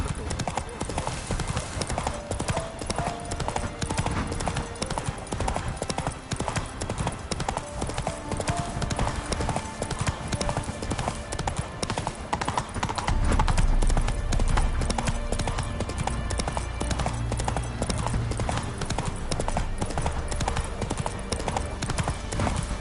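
A horse gallops in The Witcher 3, with fast, continuous clip-clop hoofbeats close by throughout. A deep rumbling swell joins partway through, and speech-like sound is mixed in underneath.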